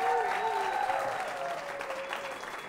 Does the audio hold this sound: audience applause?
yes